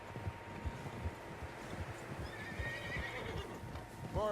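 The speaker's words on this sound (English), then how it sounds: "Horses, quite a few of them." Horses in a snowy Red Dead Redemption-style western game neigh and whinny loudly over steady, rhythmic clip-clop of hooves, with a rising whinny near the end.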